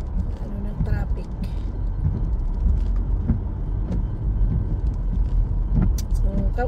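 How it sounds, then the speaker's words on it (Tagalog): Road traffic on a multi-lane highway where lanes merge, heard from inside a vehicle as a steady rumble of passing cars in rainy weather while a person talks over it. "pinakita ko lang ang traffic ngayon"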